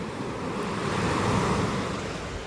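Waves wash onto the beach at Dwarka after dark, a steady, fairly loud rush of surf that swells gently and holds for the whole stretch, with no voices.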